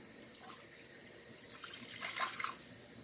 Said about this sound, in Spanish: Le vamos a poner un poquito de agua